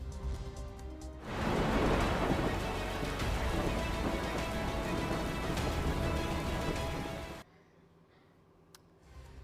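Heavy rain pours down in the Himalayas in a loud, dense, continuous roar with low thunder rumbling beneath it, then cuts off abruptly near the end, leaving quiet background noise.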